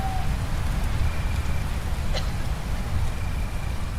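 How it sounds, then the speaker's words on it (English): Steady rain in the zombie survival game HumanItZ, a dense constant hiss of falling drops with a faint brief tick near the middle, continuous and fairly loud throughout. "Still raining."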